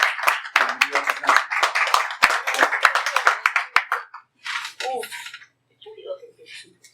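Applause for a reader at a book presentation in a café, a burst of audience clapping lasting several seconds before fading into scattered voices and quiet talk.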